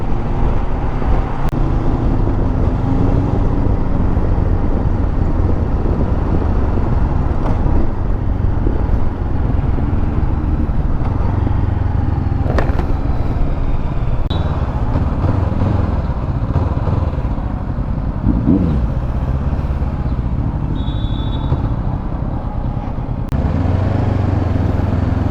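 A Honda CB500X motorcycle on a test ride, its engine droning loud and steady alongside wind and road noise, with small shifts in pitch as the speed changes.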